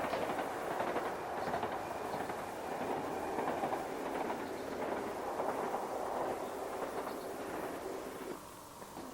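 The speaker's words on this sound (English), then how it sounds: "we can watch the trains cross the magnificent Artengil Viaduct" A train crosses the Arten Gill Viaduct in the Yorkshire Dales: a steady, sustained rumble with faint rhythmic wheel clatter, heard alone without talk and easing off at the end.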